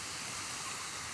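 A pot of braised pork ribs with sweet potato stems bubbles and sizzles on the stove, a faint, steady hiss with no break.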